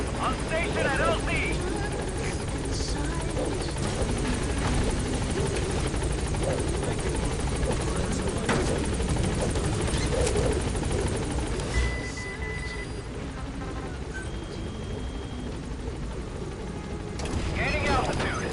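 The Pequod transport helicopter in Metal Gear Solid V hovers and flies with a constant loud rotor roar, while radio-style voices talk over it.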